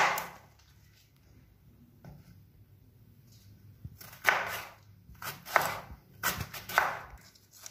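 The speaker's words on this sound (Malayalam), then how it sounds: "ഇത് ഇതുപോലെ തന്നെ ചോപ്പറിലിട്ട് ഞാൻ ചോപ്പ് ചെയ്തെടുക്കാം" Yam flower being chopped by hand before going into a chopper, heard as a few sharp knife strokes in a cluster near the end after a quiet start, close and moderately loud.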